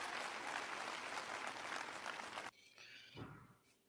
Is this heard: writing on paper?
no